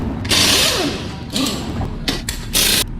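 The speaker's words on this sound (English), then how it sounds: "We're gonna start by taking our Phillips head screwdriver and unscrewing these screws surrounding your grill." Screws being backed out of the grille of a Subaru Impreza with a Phillips head screwdriver, heard as a few short bursts of close, rasping ratchet-like clicking separated by pauses.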